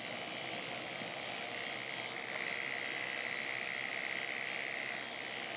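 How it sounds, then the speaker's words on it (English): A flapper peening tool spins at a steady 4000 RPM, giving a constant high, whining buzz that holds level and unbroken throughout, fairly close and alone. "Here I'm using a digital tachometer to adjust the speed up to 4000 RPM."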